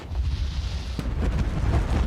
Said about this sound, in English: There's fireworks in this game.